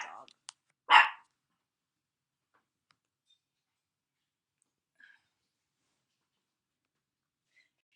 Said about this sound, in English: Wait, my dog.